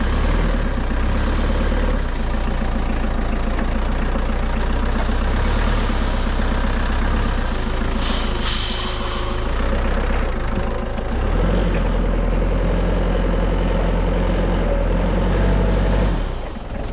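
A 5-ton forklift's heavy diesel engine runs steadily on a dry lawn, a loud, continuous low rumble that stays close and unbroken, with a brief higher rise midway.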